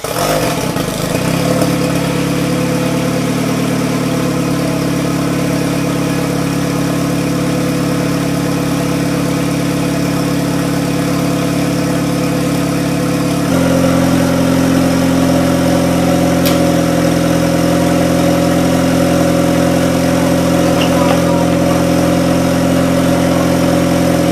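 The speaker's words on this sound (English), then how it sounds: "But start it up, figure I'll get a little clip of that. And I wanted to show off the exhaust." A turbocharged car engine idles steadily up close, a deep throaty exhaust rumble holding a constant pitch, with a slight shift in tone partway through.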